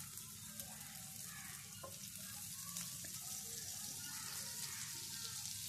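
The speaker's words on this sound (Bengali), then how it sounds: "এরপর আমি দিয়ে দিচ্ছি মাখন।" Butter sizzles in a frying pan while radish greens cook, giving a steady close frying hiss with soft crackles throughout and a few faint clinks.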